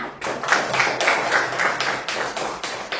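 A classroom of students claps for a classmate, a short burst of quick, uneven hand claps from a small group, fairly close and steady for a few seconds.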